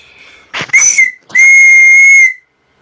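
A shrill, steady whistle from a homemade lathe-turned whistle sounds twice, first in a short wavering burst, then in a longer sustained blast with a breathy hiss at the start.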